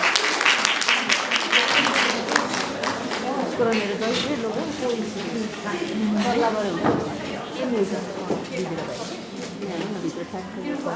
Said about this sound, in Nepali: जोरदार तालीले सम्मान गर्नुहोस्।